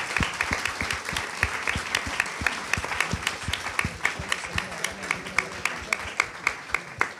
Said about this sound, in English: A big round of applause for Verónica Chávez